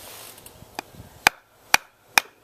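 A Pathfinder Scout knife is batoned to cut a pot hanger notch in wood. Faint taps are followed by three sharp, loud knocks spaced about half a second apart, with no voices.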